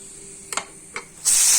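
A pressure cooker cooking jackfruit, two short puffs of steam, then a loud sustained high hissing whistle that begins near the end, close by.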